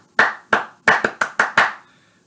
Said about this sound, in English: Say the word watermelon or mashed potato, and then try and clap it.